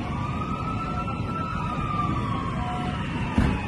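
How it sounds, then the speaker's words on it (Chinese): Fire engine sirens arriving at a burning quarantine hotel, a steady wailing tone heard from a distance over a low traffic rumble, with a brief knock near the end. "现在消防车来了"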